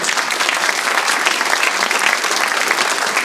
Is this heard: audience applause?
yes